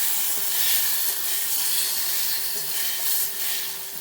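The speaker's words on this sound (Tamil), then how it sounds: "நல்லா வதங்கட்டும்" Salted tomatoes sautéing in a pan for a stingray garlic pepper curry, with a steady soft hiss of steam and sizzle throughout, close and even, and a faint tonal hum beneath; no voices.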